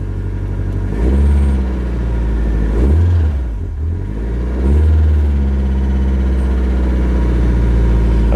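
A 1995 Nissan 240SX (S14) engine running at a steady, slightly uneven idle nearby after a swap, with a couple of brief rises in revs before settling back to a low rumble.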